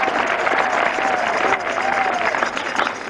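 A church congregation applauding during a French-language sermon, dense continuous clapping mixed with crowd noise and a voice over it.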